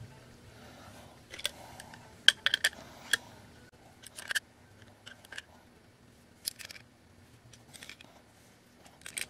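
Metal fittings on a homemade sprinkler-system blow-out tool are tightened with vise-grip pliers and an adjustable wrench, giving scattered sharp metallic clicks and ticks in small clusters against a quiet background, with no talking.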